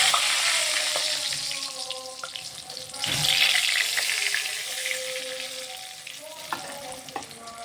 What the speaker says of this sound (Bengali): কড়াইতে তেলটা আমি গরম করে নিয়েছি। এখন আমি একটা একটা করে চপ ছেড়ে দিচ্ছি।